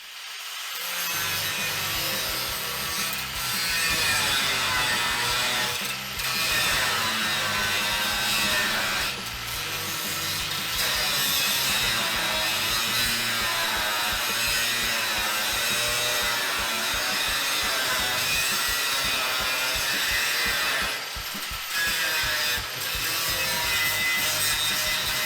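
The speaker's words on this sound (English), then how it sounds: "I just used a cutoff wheel to cut the head off the bolt" Cutoff wheel grinding the head off a welded bolt, a continuous harsh high-pitched screeching cut that holds steady for over twenty seconds with brief dips, loud and close.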